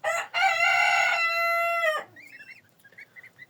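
A rooster crows once, loud and close, in a long drawn-out call, then soft clucking and chatter from farmyard poultry kept alongside geese follow.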